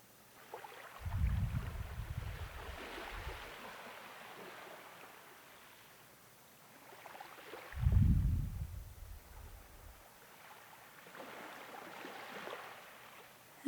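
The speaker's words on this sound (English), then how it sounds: "connect our breath now with the sounds of these waves" Ocean waves wash onto the shore in two slow, soft surges, each swelling with a low rumble and fading into a gentle hiss of receding water, heard quietly and at a distance.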